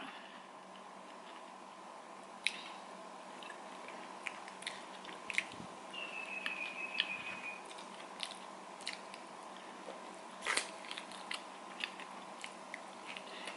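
Close, quiet chewing of durian with sticky rice, soft wet bites and mouth sounds with small clicks over a low steady background hum.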